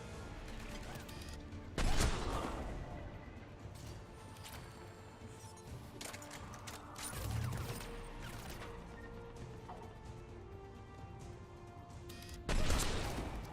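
Heavy anti-aircraft guns fire in the Mass Effect 3 game, three loud booming bursts at about 2, 7.5 and 12.5 seconds over a steady mechanical hum and rumble.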